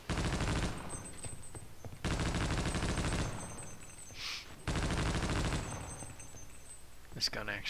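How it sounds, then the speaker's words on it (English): Rapid automatic gunfire in a video game, heavy enough to knock the player backwards, comes in three long loud bursts separated by short pauses, with a faint background hum between them. "This gun actually blows me backwards."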